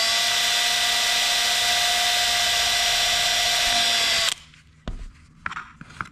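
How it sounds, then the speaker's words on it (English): A power drill whines loudly and steadily as it bores through a paper rocket body, then cuts off abruptly, followed by a few handling clicks and knocks. "Again, this is paper, it's not wood, so be patient with the drill"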